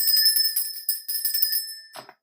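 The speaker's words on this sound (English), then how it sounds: "let me ring my bell" A hand bell rings several times in quick succession, bright and close, with sustained metallic tones that overlap and fade before a short final ring.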